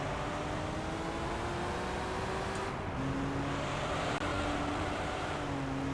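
Racing car engines in Gran Turismo 3 during an amateur GT championship race, a sustained droning whine with shifting tones under a constant hiss, no speech.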